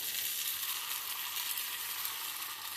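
Gunta ponganalu batter with green chillies, onions, coriander and drumstick leaves sizzles in the wells of a paniyaram pan, a steady close hiss of frying that carries on unbroken.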